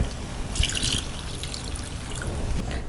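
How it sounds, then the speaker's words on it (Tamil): Water trickles and pours into a cooking pot, with a brief splashy burst early on, then a soft steady dribble. "தண்ணி ஊற்றி மிக்ஸ் பண்ணிக்கலாம்"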